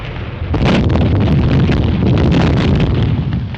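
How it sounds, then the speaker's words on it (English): An artillery barrage roars continuously in a 1930 war comedy film, with loud, dense rumbling explosions and bursts that run unbroken for several seconds. "Somebody'll have to crawl through that barrage."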